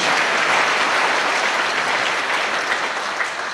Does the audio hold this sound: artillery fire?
no